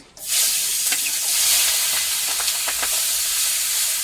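Shrimp frying in a pan, a continuous bright sizzle and hiss with a few faint clicks and pops, close and steady.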